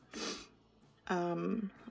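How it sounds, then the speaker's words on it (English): A short, close nasal sniff followed by a longer breathy snort-like sniffle, two quick sounds with no talking. "Excuse the sniffling coming down."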